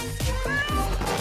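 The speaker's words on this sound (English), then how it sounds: "It's a cute little kitten who lives in a tree." A small kitten living in a tree gives three or four short, close meows in quick succession, fairly quiet and heard on their own.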